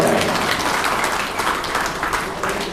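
Audience clapping at a mushaira, an Urdu poetry gathering, a steady dense wash of applause heard alone throughout.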